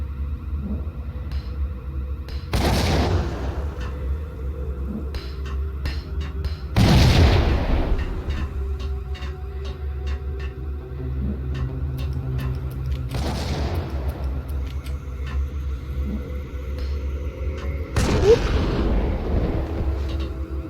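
Grenade explosions in a video game, with several sharp booming blasts spaced several seconds apart over a steady low background rumble and scattered gunfire-like clicks.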